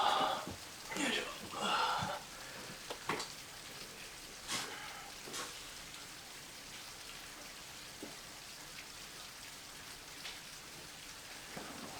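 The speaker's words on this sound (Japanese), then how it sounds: "雨降ってるやん。" Steady rain hiss falls throughout at moderate distance, with brief voices and a few clattering bumps early on, then the rain continues fairly evenly on its own.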